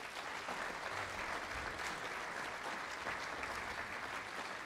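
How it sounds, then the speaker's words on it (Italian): Sustained audience applause fills a piano competition gala concert at the international piano competition of Friuli Venezia Giulia, a dense, even clapping that holds steady from start to finish. "E quindi facciamogli un applauso"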